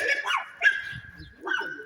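Two dogs out in town give a few sharp yips and barks in short bursts, fairly close, with quiet gaps between calls.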